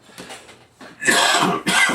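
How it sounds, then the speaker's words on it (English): A person coughs twice, with a softer throat-clearing rasp before, the coughs loud and close, triggered by inhaling glue fumes while building a scale model. "I inhale this glue and it makes me cough"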